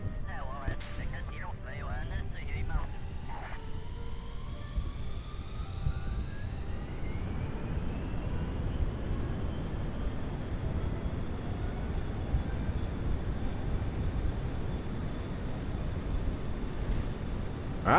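Jet aircraft with afterburners in the video game Kerbal Space Program, a steady roaring engine rumble with a rising whine building over the first seconds, then a sustained loud hum; a few clicks early on.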